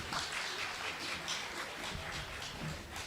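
Steady, even audience applause at a Caribbean Wellness Day opening ceremony, a broad wash of clapping that carries on evenly throughout at a moderate distance.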